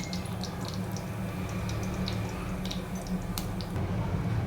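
Cumin seeds sizzle in hot oil in a pan, with a bay leaf already added, while cooking a wedding-style chana masala. The crackle is a steady, close hiss dotted with small pops and does not let up.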